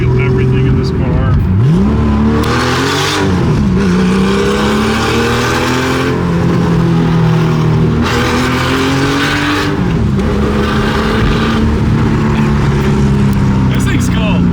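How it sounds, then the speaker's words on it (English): A loud, raw outlaw Porsche engine revs and drops through repeated gear changes while driving, its exhaust note rising and falling close to the microphone, with voices talking over the engine. "Like the exhaust note sounds like a turbo, I think."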